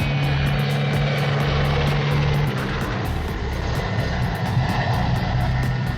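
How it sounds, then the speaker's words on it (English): A helicopter hovers over a sandpit, its rotor wash a loud, continuous roar with a rapid chopping pulse and a steady engine whine running through it. "As the helicopter hovered over the sandpit"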